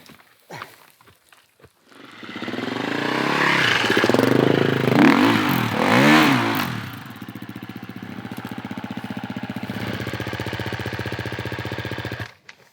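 A Husqvarna FE 350 enduro motorcycle climbs over an obstacle off-road, its single-cylinder engine revving loud and close with rising and falling pitch, then settling to a steady chugging idle before cutting out.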